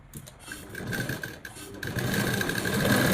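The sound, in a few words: sewing machine stitching blouse neckline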